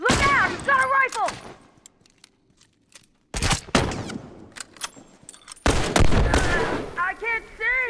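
Rifle gunfire in The Last of Us, bursts of sharp shots in clusters separated by quiet gaps, mixed with loud shouted voices from characters during a combat encounter.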